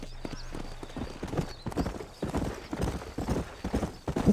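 A horse galloping in Red Dead Redemption: rapid, rhythmic hoofbeats pounding steadily and fairly close, with occasional snorts and faint background ambience, and no talking.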